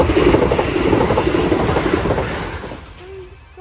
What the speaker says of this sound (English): Probably Gatwick Express.